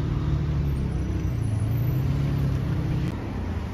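A 328 sports car rolls by on a Monaco street, a steady loud low engine rumble that holds throughout and eases slightly at the end.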